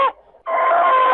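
A rooster crows loudly and close among hens on a farm, a short cluck followed by a sustained, strained crowing call.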